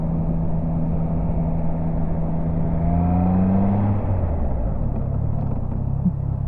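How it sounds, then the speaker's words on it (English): A Triumph Trident 660 motorcycle brakes hard to a stop. A steady, loud engine rumble runs throughout, and the engine note slides downward as the bike slows, with no talk. "So I'm going to notify him I'm going to be doing a pretty hard stop up here."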